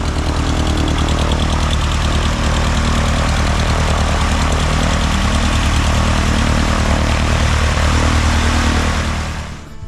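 A propeller airplane engine runs steadily at Alexandra Airport, a loud, close, droning buzz held for about ten seconds before easing off at the very end, with no voices.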